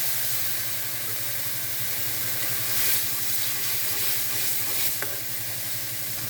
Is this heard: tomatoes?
yes